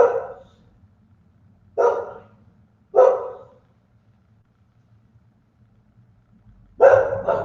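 A household dog barks at the front door in a few sharp, isolated barks, close and fairly loud, separated by quiet pauses, with no one talking.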